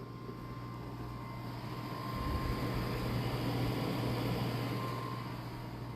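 A Sonic nugget ice maker at home gives off a soft, steady, constant hum with a low tonal drone, faint and continuous throughout, swelling slightly midway, with no voices.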